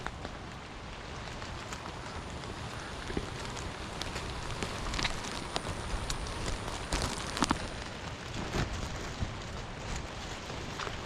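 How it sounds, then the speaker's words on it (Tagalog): Steady, dense hiss of heavy rain pouring down, with scattered louder drops and splashes throughout, continuous and close. "lakas ang ulan"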